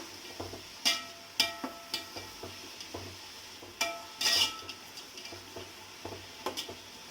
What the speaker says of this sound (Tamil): ஸ்பீடில் வச்சு எப்பவுமே வதக்கக்கூடாது. சிம்மில் வச்சு வதக்குங்க.